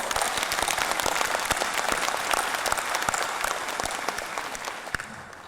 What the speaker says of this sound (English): Please give them again a round of applause.